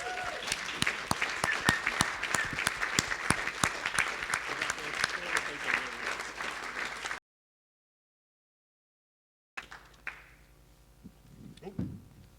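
Sustained applause from an audience at the Christian Youth Work Awards 2016, greeting The Door in Stroud as Youth Work Employer Award winner; dense steady clapping for about seven seconds, then a gap and a few scattered claps with faint voices.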